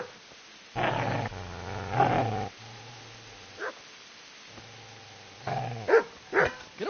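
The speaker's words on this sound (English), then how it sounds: "Get away, you mutt!" A dog in Kingdom Come: Deliverance growls and barks in short, close bursts. Quiet gaps separate the outbursts, and low snarls are mixed in.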